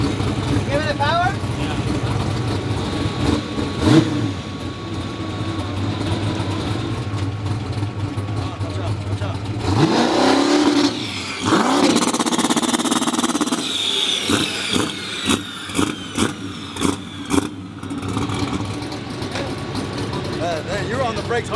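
A Ford Mustang Foxbody engine idles and then revs hard, with a surging roar midway followed by a series of sharp, punchy blips, loud and close, while people talk over it.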